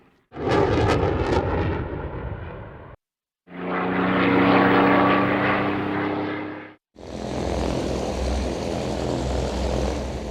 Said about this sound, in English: It must be an evocative sight for some of the island's older generations to see this aircraft in the skies again.